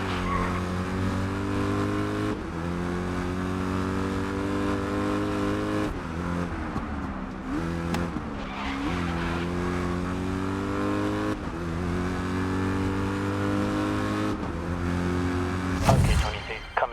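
A race car corners at speed in Grid Legends, its engine holding a loud sustained drone with pitch dips and climbs through gear changes, close and continuous without talk.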